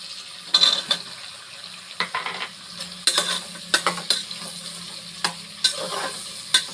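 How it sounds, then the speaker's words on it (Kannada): Mushrooms added to a pan for mushroom biryani, stirred with a steady frying sizzle and repeated scraping stir strokes close by, with a faint running-water hiss underneath and no talk. "ಮಶ್ರೂಮ್ ಆ್ಯಡ್ ಮಾಡ್ತಾಯಿದ್ದೀನಿ ಇವಾಗ."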